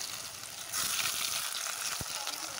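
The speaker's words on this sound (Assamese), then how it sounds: "আৰু বাকীখিনি কাচকলো মই একে পদ্ধতিৰে ভাজি ল'ম।" Raw banana (plantain) slices fry in hot oil with a soft, continuous hissing sizzle that swells slightly after the first moment, broken by one faint low knock.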